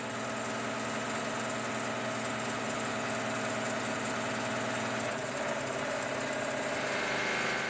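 An electronically controlled narrow fabric loom weaves at speed, giving a steady, dense mechanical drone with fine rapid ticking throughout, close and continuous with no voices.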